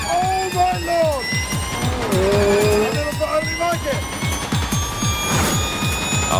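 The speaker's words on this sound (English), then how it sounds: "see an electric car destroying a McLaren fossil car" An electric car races a McLaren supercar of over 700 horsepower, with repeated loud tire squeals and engine roar rising and falling in quick succession throughout.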